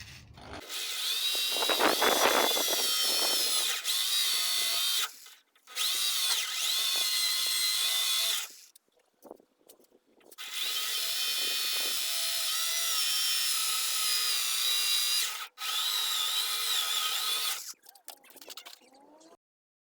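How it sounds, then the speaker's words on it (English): Power drill on a Mini car body drilling out spot welds, loud high whining bursts of several seconds each separated by short pauses, close up. "So I've drilled out these spot welds"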